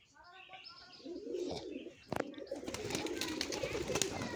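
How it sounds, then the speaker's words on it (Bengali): Many pigeons cooing together in a pigeon loft, a dense overlapping chorus of low, throaty coos with scattered chirps and wing sounds, steady and fairly close, with a voice briefly speaking over it. "অসংখ্য কবুতর"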